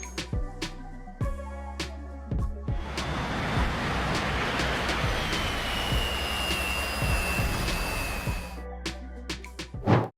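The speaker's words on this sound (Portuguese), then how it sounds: "Pousos de avião mais aterrorizantes capturados pelas câmeras" A jet airliner comes in to land at Wellington airport, its engine roar swelling into a loud, sustained rumble with a rising whine, then fading, with gusty wind noise around it.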